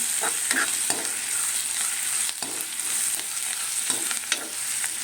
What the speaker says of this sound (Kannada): ಹಸಿ ಎಲ್ಲ ಹೋಗೋವರೆಗೆ ಒಂಚೂರು ಹುರ್ಕೊಳ್ಳೋಣ